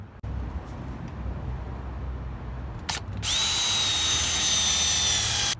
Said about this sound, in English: So what I'm going to do is I'm just going to drill a hole down near the bottom like the OEM one was.